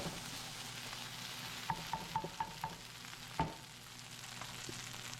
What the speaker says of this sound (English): chorizo and green peppers cooking right here